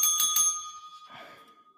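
A bicycle-style bell on a live talk show rings three quick bright dings, then a fainter trailing ring that decays into a quiet tail.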